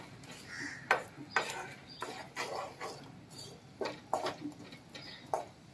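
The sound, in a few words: sautéing ground masala paste with onions in a pan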